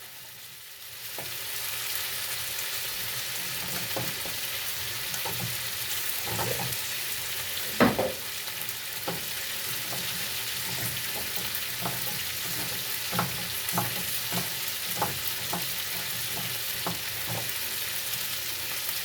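Goat head stew, Kenyan wet fry, sizzles steadily in a hot pan while a spoon scrapes and stirs it, giving repeated sharp clinks over the constant frying hiss.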